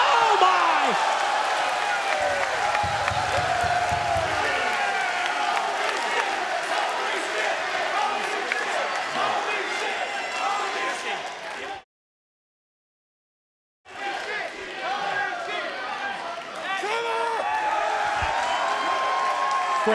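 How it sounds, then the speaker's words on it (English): A wrestling crowd at TNA Destination X 2012 in Orlando cheers and roars in a large arena during a four-way opening match. The noise is loud and sustained under a commentator's voice and breaks off for a moment of dead silence partway through. "Great response from the crowd here in Orlando at Destination X for this four-way opening match"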